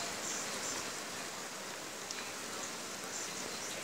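Steady rain hisses evenly through a Minecraft game session while real rain falls outdoors, forming a continuous wash of drops with no breaks and no voices.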